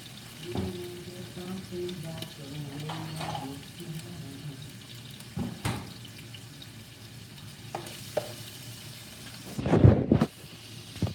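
Shrimp dropped into hot oil on a stove, a low steady frying hiss under faint background noise, ending in a brief louder burst of sizzle and clatter.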